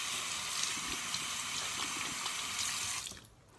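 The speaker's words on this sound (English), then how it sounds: "Wash my hands, dry my hands." Tap water runs steadily into a sink while hands are washed, a moderate splashing hiss that stops abruptly after about three seconds.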